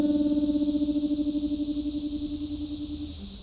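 An electric guitar runs through an envelope-following tremolo pedal set to its fastest speed; one sustained chord pulses in rapid, even throbs that slowly fade, loud and close with no voices.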